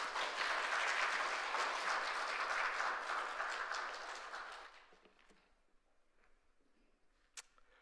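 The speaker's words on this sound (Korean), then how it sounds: "우리 목사님 등단하실 때 박수로 환영하겠습니다." A church congregation applauds to welcome a pastor to the pulpit at an autumn worship concert, a dense burst of clapping that fades away after about five seconds into near silence with one sharp click.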